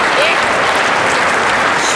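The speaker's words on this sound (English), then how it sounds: "Crowd starting to get into the game as the rally starts building." Crowd applause and cheering fill an Olympic table tennis arena at London 2012, a dense, steady roar of clapping and voices holding loud and close throughout without letup.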